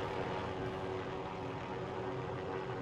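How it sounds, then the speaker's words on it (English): A helicopter in the video game Warzone drones with a steady, dense rotor and engine roar, continuous and fairly loud throughout with no talk. "Chopper coming. Have a chopper coming."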